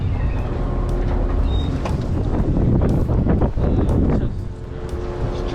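Strong wind buffets the microphone on a boat at sea, with choppy water slapping and rushing underneath in a continuous loud roar.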